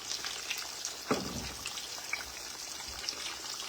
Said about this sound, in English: Frying them pork chops.